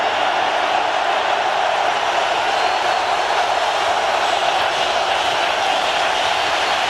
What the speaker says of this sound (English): because of the crowd noise